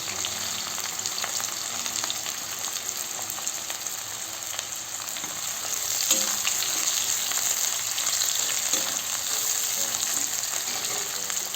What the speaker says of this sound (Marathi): तेल गरम झालेलं आहे। यात जिरा घालू, अर्ध्यातून अर्धा चम्मच।